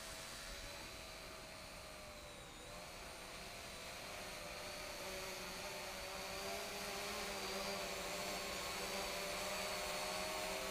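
A 4DRC F3 quadcopter drone hovers in place, its propellers giving a steady, continuous whir with a faint high whine, holding at an even level without pauses.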